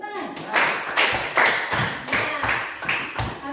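A group claps their hands in a classroom, a steady run of about eight close, full, rhythmic claps in even succession.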